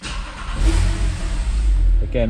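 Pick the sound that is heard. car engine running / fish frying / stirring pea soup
car engine running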